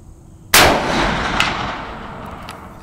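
A single sharp, loud rifle shot from a .444 deer hunting rifle at an outdoor range, a sudden crack followed by a long rolling echo that fades slowly, with no talking.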